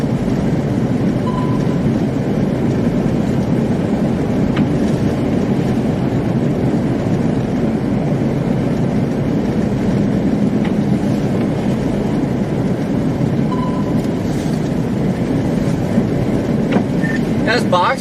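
A box truck accelerates on a snowy road with a loud, continuous low rumble and roar of engine and road noise, close by and steady throughout, with faint occasional clanks and tones over it.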